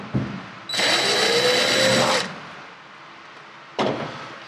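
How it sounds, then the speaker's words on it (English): A cordless power driver fitted with a Phillips bit runs in reverse to back screws out of a clothes dryer panel: one steady whir of about a second and a half, then a short second burst, close and clear with no talking. "Got your driver, a Phillips head bit on it. Reverse."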